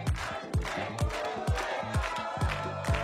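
Studio audience on a French-language TV game show crowd cheering and clapping in loud, rhythmic bursts roughly every half second, a steady roar between the peaks, with no talking.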